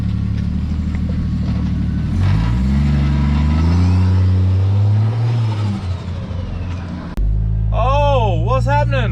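A turbo-swapped Ford Fairlane engine idling with a deep rumble, then revving up in rising and falling sweeps, loud and close; someone talks over the engine near the end.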